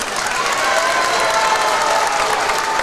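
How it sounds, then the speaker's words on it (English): A crowd applauds steadily for both teams at a high school tournament final, a dense even patter of many hands clapping, with a few faint cheers mixed in. "Let's give both teams another round of applause."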